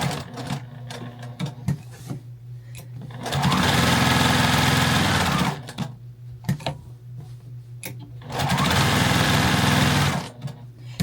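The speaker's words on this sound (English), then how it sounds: "we're not going to sew exactly on the line" Sewing machine stitching a fabric flag, two steady whirring runs of fast stitching a few seconds each, separated by quieter pauses with small clicks and handling noises, close by and with no talk.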